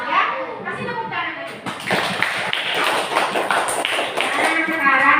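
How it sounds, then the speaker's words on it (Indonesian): A school class claps after a group presentation, a burst of scattered, uneven hand claps mixed with children's chatter and shouts. "Ya, kasih tepuk tangan."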